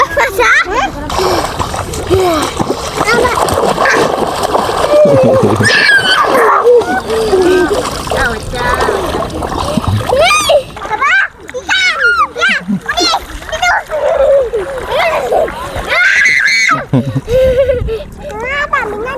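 Loud, repeated splashing and sloshing as people bathe in a clear, swollen village river after a flood, with children's voices chattering and shouting throughout.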